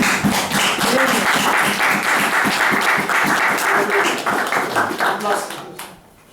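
A church congregation applauds loudly and steadily for several seconds, a dense patter of many hands that fades out at the end, with voices mixed into the clapping.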